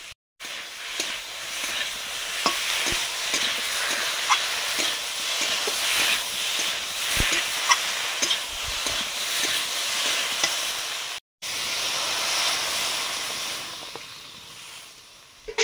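Fish curry gravy with radish boiling in a pan, a steady bubbling hiss and sizzle with faint ticks and pops throughout, close and continuous, broken by one brief gap near the end.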